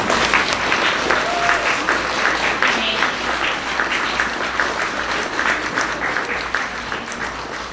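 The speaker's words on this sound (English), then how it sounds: "If we could clap." Children at a school Memorial Day assembly clap together in a steady, dense burst of applause that carries on throughout, filling the hall at an even level.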